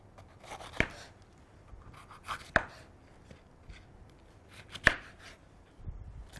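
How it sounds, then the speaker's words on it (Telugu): Three sharp knife strokes on a chopping board, spaced about two seconds apart, as hard vegetables are rough-chopped, close and distinct over a quiet background with softer scraping between cuts. "So first will cut the vegetables."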